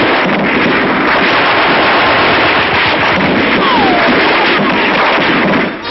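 Dense, sustained gunfire from rifles and machine guns during street fighting in Cherbourg, loud and continuous with overlapping rapid bursts and cracks filling the scene without a pause.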